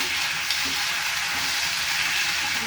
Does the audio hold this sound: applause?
no